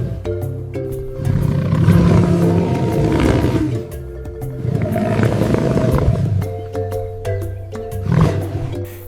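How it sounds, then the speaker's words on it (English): A male lion with a large mane roars on the African savanna, heavy and close, in several long, rumbling bursts that swell and fade with short pauses between them. "Kito rises, shakes his magnificent mane, and roars. The sound echoes across the savanna."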